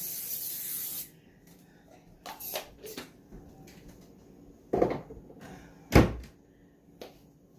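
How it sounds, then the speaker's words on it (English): Short hissing bursts of an aerosol cooking spray onto a baking dish, one long blast at the start followed by several quick sprays and a couple of thuds. "I'm just going to add a little bit of cooking spray to it"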